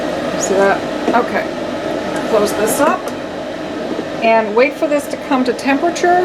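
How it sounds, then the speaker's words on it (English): A room ventilation fan runs steadily in the background beside an electric smelting furnace, a constant broadband whoosh beneath a person talking close to the microphone. "you can hear my ventilation going in the background"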